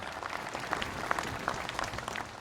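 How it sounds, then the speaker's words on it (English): Steady applause from an audience at a veterans memorial ceremony, a dense patter of clapping that holds at an even level throughout without pause. "How about a round of applause for our signature donors?"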